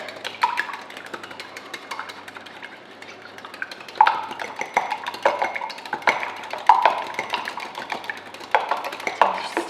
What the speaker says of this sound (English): to your mug you add 1 egg, and give that a whisk